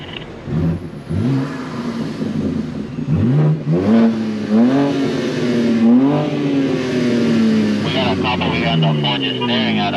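A loud BMW G80 M3 revs hard on New York City streets, the engine note climbing and falling in repeated aggressive sweeps, close and dominant, with people talking around it.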